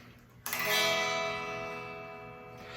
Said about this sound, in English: Without the amplifier, the electric guitar sounds like this.